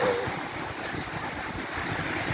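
Storm wind and sea waves on the coast at Bodrum, broadband rushing surf and gusting wind noise filling the scene steadily and loudly, with no voices.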